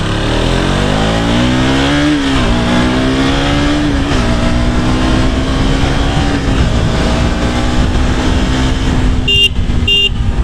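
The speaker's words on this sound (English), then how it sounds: "Okay, so I'm going to ride the KTM RC 200 for you." A 2022 KTM RC 200 motorcycle engine hums loudly and steadily while riding, rising in pitch as it accelerates through gears, with a couple of short horn toots near the end.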